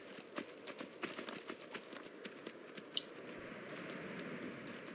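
Horse hooves in the Skyrim video game, a soft, regular clip-clop of a walking horse heard close, over a steady low ambient game background with no talk.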